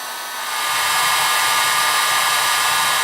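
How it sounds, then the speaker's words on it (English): A heat gun blows steadily as it warms a motorcycle fork during disassembly, a loud constant whooshing hiss that ramps up in the first half second and then holds steady, with no talking. "I'm going to go ahead and kill the heat gun"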